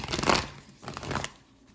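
A deck of tarot cards is shuffled close by, with a quick papery riffle followed by a second softer flurry of card rustling.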